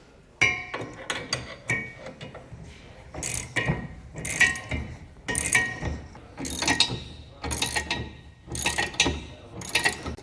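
A torque wrench tightening nuts on a trailer hitch, with repeated loud ratcheting clicks in bursts of rapid metallic pawl chatter, close up and steady over several strokes.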